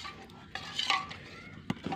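Custard being stirred in a pot over a wood fire, a spoon scraping and clinking against the metal with a few sharp knocks, fairly quiet and close, with no talking.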